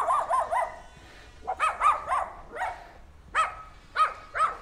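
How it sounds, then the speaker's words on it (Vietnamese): A small but fierce dog near the grounds of Bùi Chu Cathedral barks in short clustered bursts of two or three sharp, yappy barks, close and fairly loud, separated by brief pauses. "Một chú chó rất là dữ nhưng mà khá là nhỏ nha mọi người."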